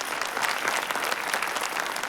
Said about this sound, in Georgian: აპლოდისმენტები რო არის მის?